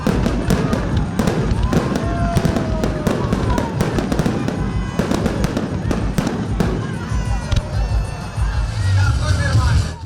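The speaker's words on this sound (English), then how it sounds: "That meant only ground-based fireworks lit up the evening sky." Ground-based fireworks at the Bucharest International Airshow 2024 burst in a rapid series of sharp cracks and pops, loud and dense, with crowd murmur and voices underneath.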